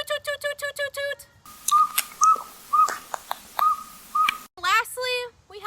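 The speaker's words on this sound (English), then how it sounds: "The northern saw-whet owl sounds more like a train whistle." A northern saw-whet owl gives a series of about seven evenly spaced, clear, whistle-like toots, fairly loud and close. Other tonal calls sound briefly before and after the series.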